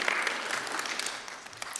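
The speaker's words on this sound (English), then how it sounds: "That's a clapping moment." A crowd at a Right to Life banquet keynote claps briefly in a dense wash of hands, fairly faint and fading toward the end, with no one speaking over it.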